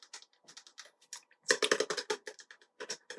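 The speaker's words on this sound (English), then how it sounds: "So you might hear some clickety clackety taps from the keyboard." Close, soft typing on a laptop keyboard: irregular runs of light clicky taps with brief pauses, including one faster burst, heard alone in a quiet room.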